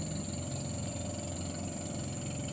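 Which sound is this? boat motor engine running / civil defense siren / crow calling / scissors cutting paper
boat motor engine running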